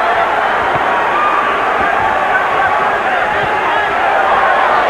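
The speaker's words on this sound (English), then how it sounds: "Pro Chavez crowd chanting already." A large boxing arena crowd roars and chants for the fighter Chavez during a world title bout with Floyd Mayweather, a loud, continuous wall of massed voices with no breaks.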